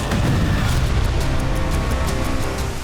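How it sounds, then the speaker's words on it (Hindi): A guided missile fires from a small vehicle and strikes near an ammunition depot in the Artemivsk area of Ukraine, giving a loud, sustained roaring rumble with dense low booming and no clear separate blasts. "छोटे से वाहन से गाइडेड मिसाइल फायर की गई और चंद सेकंड बाद एक जोरदार धमाका हुआ"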